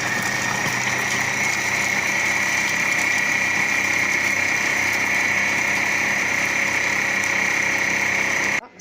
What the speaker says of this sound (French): Là, il y a le persil. Alors, j'appuie sur hacher.